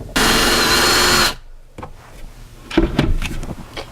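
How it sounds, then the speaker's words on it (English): A power drill bores holes into a walk-in closet wall in one loud, steady burst of about a second, then stops, leaving faint knocks and handling clatter close by. "So let's go ahead and drill in our holes."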